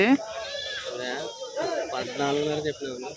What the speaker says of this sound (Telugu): ఇక్కడ మేకలు కూడా ఉన్నాయి ఫ్రెండ్స్